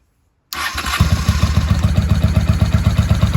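After a moment of silence, a 1995 Honda Shadow VLX VT600CD motorcycle running without baffles or an air filter, after years unused, abruptly starts. It settles into a loud, lumpy idle with evenly spaced exhaust pulses.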